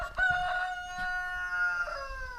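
A rooster crows once in a long, loud, drawn-out call close by, with a bright rising and falling cry that fills the whole moment and has no talk over it, heard in a farmyard where an Ursus C360 tractor is being restored.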